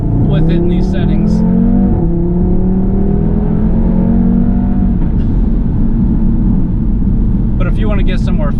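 A 2018 Audi TT RS engine drones loudly and steadily from inside the car while driving, its pitch slowly climbing before settling, with a continuous low rumble beneath.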